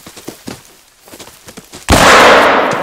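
A rifle shot in the hunting game theHunter: Call of the Wild bursts in loud and close after a stretch of small quiet pops, its roar holding on and slowly fading to the end.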